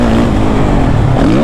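A Suzuki RMZ 450 dirt bike engine runs loud and close under throttle, its pitch wavering and climbing again toward the end of a short burst, with no talking.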